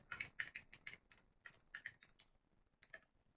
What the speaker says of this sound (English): I'm just typing this into the chat so everyone can see it.